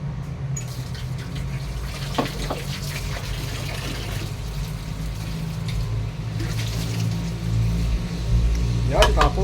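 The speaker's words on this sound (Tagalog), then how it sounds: "banlawan ko lang to. Yan, banlawan lang natin" Food being rinsed under running tap water in a backyard kitchen produces a steady, low rushing flow that grows slightly louder toward the end, with occasional small splashes.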